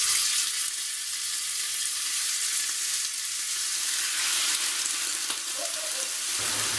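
Beef searing in sunflower oil in a pan for goulash, a loud, even hiss of hot oil that holds steady throughout, close up with no talk.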